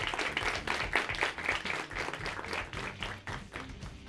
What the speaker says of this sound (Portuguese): uma salva de palmas a todos vocês que participam do estágio de visita